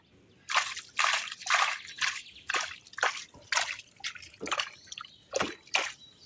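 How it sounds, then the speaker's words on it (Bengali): Water scooped by hand out of a freshly dug crab hole in Sundarbans forest mud, a rhythmic run of about ten close, wet splashes and sloshes, one every half second or so. "প্রচুর পরিমাণে জল আসছে। তো জলটা একটু বের করে দাও হাত দিয়ে।"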